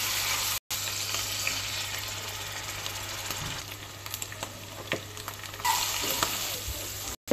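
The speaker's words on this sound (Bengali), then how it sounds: "পেঁয়াজ, মরিচ আর তেল গরম তেলে দিয়ে দিয়েছি।" Sliced onion and chili fry in hot oil with a dense, continuous sizzle, scattered ticks and scrapes of stirring, and a brief dropout near the start. The sound is close and steady, with no talking.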